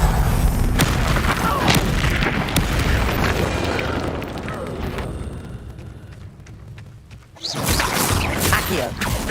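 In the Hogwarts Legacy video game, the Incendio fire spell erupts with a loud, booming roar and crackling burst that fades, then a second blast flares near the end.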